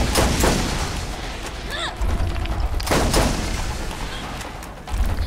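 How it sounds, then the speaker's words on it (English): Gunfire in a shooter video game: a few sharp, loud shots and booms at irregular intervals, with a brief whooshing sci-fi effect between them, close and dominant. "I shot him, and I am phase walking"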